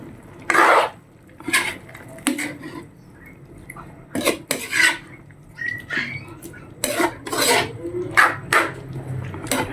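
Spoon stirring kaldereta with fried potatoes and carrots in a pan, a series of irregular scraping and clattering strokes against the metal, fairly close and clear with short pauses between movements.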